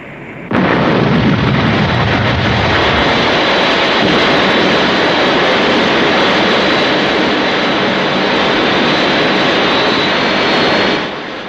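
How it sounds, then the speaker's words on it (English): An aircraft from Thunderbirds roars past, a loud jet engine rising sharply and holding a dense, sustained blast before cutting off near the end. "Well, Colonel, that's some aircraft you've got there"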